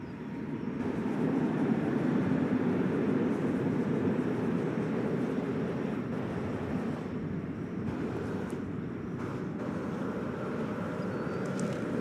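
A four-year-old Airbus A350-1000 arriving at DFW airport after a long-haul flight from the Middle East, a steady broad engine roar that holds throughout, moderately loud and distant with no talk.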